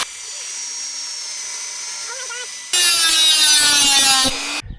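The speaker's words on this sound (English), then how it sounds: "I had to drill another hole" A power drill bores a hole during servicing of a Land Rover Discovery SDV6, its high whining motor starting abruptly after quieter background hum and running loud and close for under two seconds before stopping.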